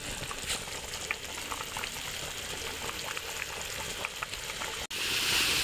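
Spice paste with green chillies sautéed in a pan for a Bengali eggplant kalia, giving a steady, close sizzle with scattered crackles and stirring scrapes, continuing alone with a brief drop near the end.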